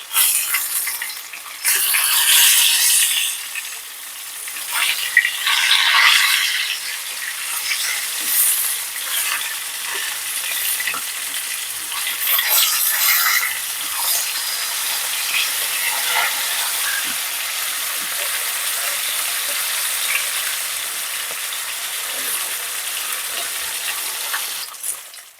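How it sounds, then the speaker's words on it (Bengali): Fish sizzles steadily in hot oil in a pan while being fried for a Bengali fish curry with taro, a dense continuous crackling hiss that stays loud and close throughout with no voices. "এদিকে মাছটা ভাজা হতে যাক"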